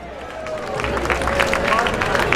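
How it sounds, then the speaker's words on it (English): A Los Angeles audience at a Cocoanut Grove-themed night at The Grove breaks into sustained applause and cheering, with a dense crowd wash and a brief voice rising through it. "You guys got this applause thing down."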